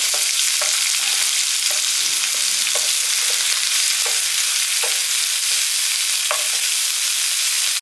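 Onion, green chillies and carrot sauté in hot oil in a pan, with a loud, steady sizzle throughout and soft, regular scrapes of a stirring spoon, close and with no talk.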